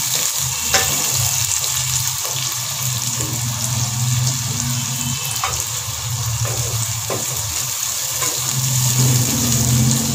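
Onions frying with garam masala in a pot for chicken biryani, a steady dense sizzle with faint stirring scrapes and a low rumble underneath, close and constant throughout.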